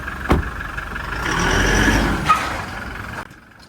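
A heavily modified Toyota Fortuner revs hard under acceleration, its engine note swelling into a loud, sustained roar for about two seconds before cutting off abruptly. No one speaks.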